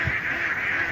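Domestic ducks quack in a village setting as they head toward a wetland, giving a steady, close chorus of calls that fills the whole second.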